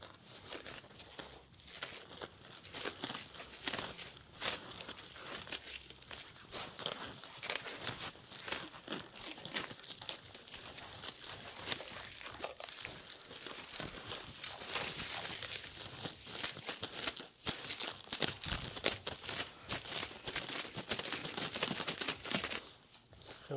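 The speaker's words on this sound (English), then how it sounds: "We're gonna unwrap" Plastic wrap being pulled and unwrapped from the parts of a Vyper Elevated Steel Max stool, with loud, continuous crinkling and tearing close by that builds toward the end, and no talking.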